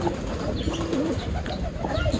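Racing pigeons cooing near a loft during a race, soft rolling coos repeating over a steady outdoor background, fairly close, with a faint flutter of wings.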